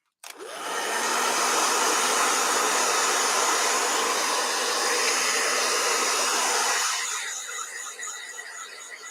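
A blow dryer whirs loudly and steadily for several seconds after switching on, then its pitch shifts and the airflow sound weakens near the end.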